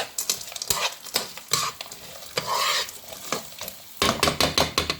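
Frozen bell peppers are stirred in a hot pan. A loud sizzle and frying hiss sound close up, broken by repeated scraping stirs of a utensil against the pan.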